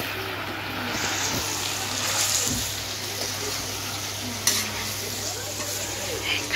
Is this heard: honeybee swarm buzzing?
no